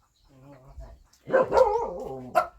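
A dog barks several times in a rural rice-field setting, a few soft yips first and then louder, close barks with a final sharp one.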